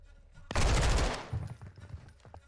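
A single loud gunshot in the video game Call of Duty Modern Warfare II, a sharp blast with a booming tail that fades into quieter in-game movement and muffled thuds.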